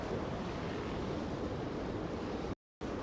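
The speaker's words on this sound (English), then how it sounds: "Maybe not come here when it's so windy" Strong wind at a waterfront pier roars steadily into the microphone as loud, constant buffeting, with surf-like rushing and a brief dropout near the end.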